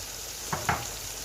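Mutton roasting in a pan sizzles with a soft steady hiss, broken by two quick scraping stirs of the spoon near the middle.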